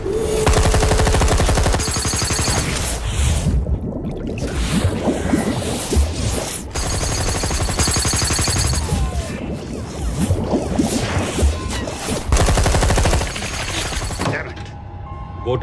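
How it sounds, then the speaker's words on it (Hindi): Gunfire aimed into the water from a boat in a Bollywood action movie comes as loud, rapid bursts of automatic shots, repeated across several volleys with brief pauses between them. "फायर करो उधर पानी में।"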